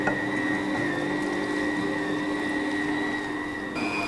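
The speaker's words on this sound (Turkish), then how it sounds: "Bu yetmeyebilir üzerine su ekleyebilirim." Water pouring steadily into bread dough for chickpea bread in a running Bosch stand mixer, a continuous close trickle over the motor's hum, with no voices.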